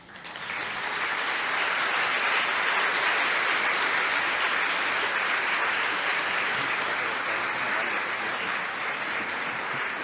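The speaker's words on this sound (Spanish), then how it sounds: "fuerte el aplauso para la doctora Rosa María Torres Hernández" Sustained audience applause after an educational lecture, a dense even wash of clapping from many hands lasting the full length without talk.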